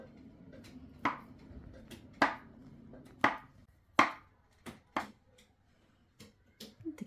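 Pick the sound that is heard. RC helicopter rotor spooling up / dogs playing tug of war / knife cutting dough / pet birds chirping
knife cutting dough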